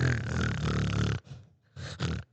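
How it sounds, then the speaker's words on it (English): A person blows their nose in two bursts: one long, loud, forceful blow, then after a short gap two quicker blows close together, all heard up close with no talking. "I'm gonna blow my nose."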